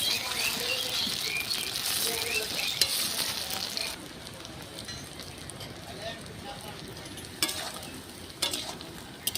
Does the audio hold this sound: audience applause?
no